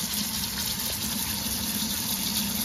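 Cold water runs steadily over Irish moss being rinsed for cleaning, a continuous close splashing gush with no pauses and no voices.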